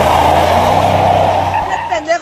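A Pepsi delivery truck drives past on a street, a loud, broad engine and road roar rolling close by that fades toward the end, with a voice talking over it.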